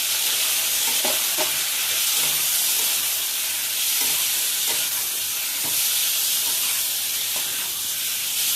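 Chopped tomato and chili with cumin, coriander and turmeric sizzle steadily in a pan, with a constant bright hiss and occasional stirring scrapes throughout.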